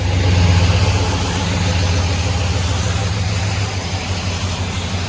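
A 2001 Chevy Silverado with a 5.3L V8 and true dual exhaust through Flowmaster 40 Series mufflers idles loud and close, a deep steady rumble for several seconds with only slight swells in level.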